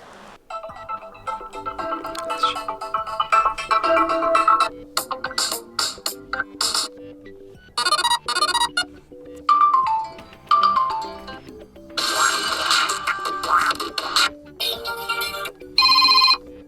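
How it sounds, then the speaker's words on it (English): Ringtones playing from a Motorola Moto G5S phone, a series of short electronic melodies previewed one after another, each a few seconds long with brief gaps between them, loud and close, with no talk. "phone ringtone, and let's change it"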